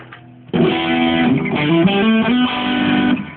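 After a faint quiet start, a loud sustained electric guitar lead kicks in with a boosted, slightly driven tone, playing held notes and short bends.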